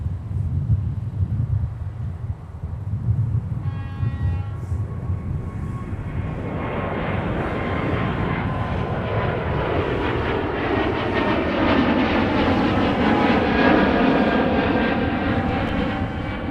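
A Sun Country airliner arriving at MSP airport from LAX roars steadily and loudly, its engine noise swelling and sweeping as it passes at close range, with wind buffeting the microphone.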